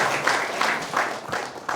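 An audience at a school pantun event claps briefly, a short burst of applause with pulsing, uneven rhythm at moderate distance.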